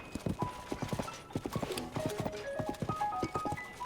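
Horse hooves clip-clop in a steady trotting rhythm in The Legend of Zelda: Tears of the Kingdom, heard over gentle melodic game music with sustained tones.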